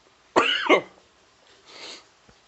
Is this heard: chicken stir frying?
no